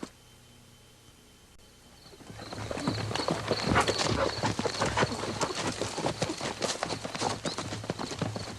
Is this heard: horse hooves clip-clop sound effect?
yes